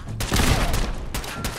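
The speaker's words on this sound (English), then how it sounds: "Oh, whom are you shooting at?" Gunfire bursts out in Fallout 4, a loud volley with sharp cracks near the start and again toward the end over a rumbling battle background, no speech.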